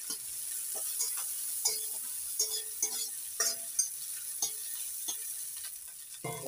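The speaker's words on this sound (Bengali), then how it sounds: "এবার নাড়াচাড়া করে নিই।" Shrimp with taro stems and green chilies are stirred in a frying pan: a soft, steady sizzle runs underneath while a utensil scrapes and knocks against the pan in irregular strokes, up close and with no voices.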